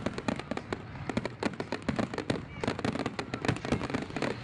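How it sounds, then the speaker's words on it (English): Fireworks fill the halftime break of a soccer match: a dense, continuous volley of sharp bangs and crackles at a middle distance, with crowd noise faint underneath. "The match also had a fireworks extravaganza during halftime."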